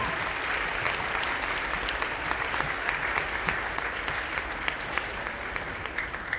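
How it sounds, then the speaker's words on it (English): A school assembly audience claps for veterans at a Veterans Day event, a loud, sustained wash of many hands clapping at once, steady from start to finish with no voices standing out. "We can give them a round of applause."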